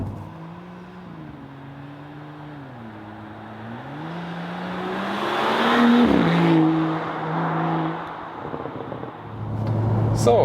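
A BMW X4 M40i pulls hard on the Autobahn, its engine note climbing through rising gear sweeps and shifting, heard from inside the cabin with road and wind roar building steadily.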